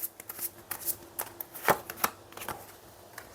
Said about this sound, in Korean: 마지막으로 조언 카드 한 장 뽑아 볼게요